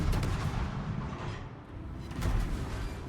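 Heavy naval guns booming in World of Warships, a deep rumbling salvo that rolls on throughout and swells again near the end, with no voices over it.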